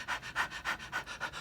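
A dog panting rapidly in a steady rhythm of about six quick breaths, close and fairly quiet, with no other sounds.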